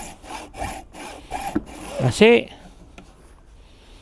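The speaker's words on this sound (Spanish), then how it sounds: "Yo en este momento ya estoy cortando el borne." A hand saw cuts through a car battery terminal with rasping back-and-forth strokes, heard close up beneath someone speaking.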